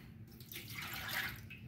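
Water poured into the basket of a bread machine, a soft, steady trickling splash lasting under two seconds, heard alone at a low level.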